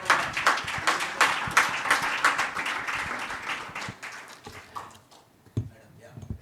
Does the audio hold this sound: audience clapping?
yes